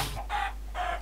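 Chickens cluck in a video game, two short bright clucks spaced apart over a steady low hum, faint and thin.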